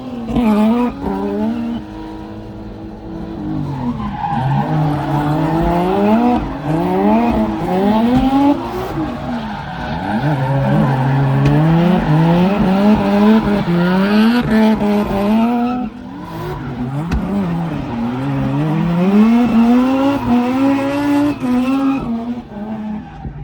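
Tires squeal continuously over a loud, revving engine as a truck drifts at a Bangkok car show, the screech wavering up and down in pitch for the whole stretch, up close.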